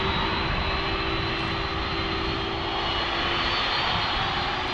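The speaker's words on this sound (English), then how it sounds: "MD-11. That's how close we are." MD-11 jet aircraft at DFW airport, its engines roaring close by in a loud, steady, unbroken drone with a faint whine riding on top.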